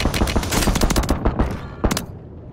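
Bursts of rapid automatic gunfire crack loudly in a first-person shooter video game, with dense overlapping shots that thin out toward the end into a couple of sharp final reports.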